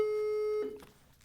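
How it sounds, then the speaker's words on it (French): A steady electronic telephone line tone during a live radio show, holding one pitch loudly for over half a second, then cutting off into a short fading scrape and room noise. "nous avons une sonnerie, je ne sais pas c'est quoi"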